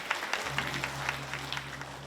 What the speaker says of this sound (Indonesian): Tepuk tangan untuk Karangasem.